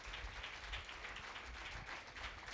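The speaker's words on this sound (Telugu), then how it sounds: "చూపిస్తాడని నమ్మితే చప్పట్లు కూడా యేసయ్యకి స్తోత్రం చెప్దాం" Church congregation clapping in praise, a dense, steady wash of applause held at an even level throughout, somewhat distant and soft, with no voices rising above it.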